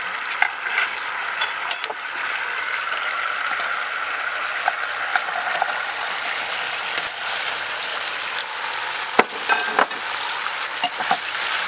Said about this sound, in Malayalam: ഇനി നമുക്ക് ഇതിലേക്ക് വറുത്ത് വെച്ച ചിക്കൻ നമുക്ക് അതിലേക്ക് ഇടാം.